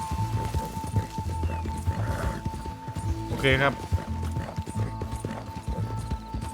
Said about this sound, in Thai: ขี่ม้าอย่างเดียวพอล้วแม่ง